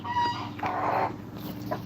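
Backyard laying hens cluck briefly up close, a couple of short bursts over a low steady background hum.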